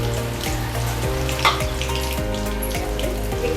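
Ajwain seeds with green and dried red chillies tempering in hot oil make a continuous crackling sizzle beneath a steady low hum that carries faint repeating pitch sweeps.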